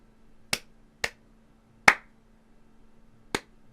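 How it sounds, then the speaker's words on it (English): Four slow, sparse claps, sharp and close, spaced unevenly across a few seconds over a faint steady hum, with no voices. "super awkward clap for you guys here"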